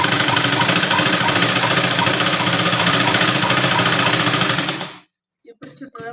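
A sewing machine stitches a baby lehenga jacket made from a saree, running in a fast, steady, buzzing rattle for about five seconds up close before stopping abruptly, followed by faint handling sounds.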